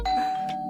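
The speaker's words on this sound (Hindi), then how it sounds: "जिंदगी में पहली बार इतना मजा आ रहा है डोरबेल बजने से" A doorbell rings alone, one clear sustained electronic chime tone with a second faint strike partway through, close and fairly loud.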